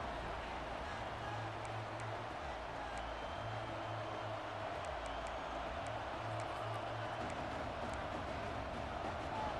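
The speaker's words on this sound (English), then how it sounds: "Here comes the noise from this big crowd in Happy Valley on 3rd down." Large stadium crowd in Happy Valley roaring on a third down in the EA Sports College Football 26 video game, a steady, dense wash of crowd noise with rhythmic low chanting pulses throughout.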